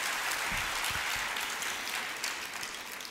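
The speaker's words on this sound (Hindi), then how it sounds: "इस बात के लिए जोरदार तालियां" Loud, dense applause from an audience at a women's association regional convention hall in Latur, sustained steadily for several seconds before easing slightly.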